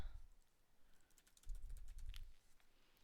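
Light clicking from a computer keyboard as someone types a search into a ukulele sing-along site, soft, close and irregular over quiet background rumble.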